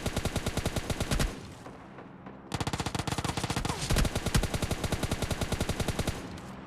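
Rapid automatic gunfire rattles in a video game shooter, loud continuous bursts with a short pause between them and no talking.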